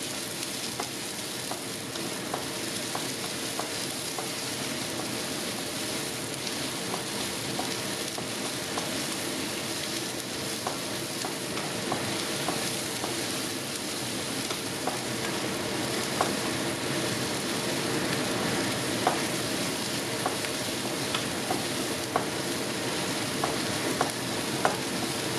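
Green beans with chili flakes stir-frying in a pan, a dense continuous sizzle and crackle that holds steady throughout, flecked with faint scraping and tapping from a spatula.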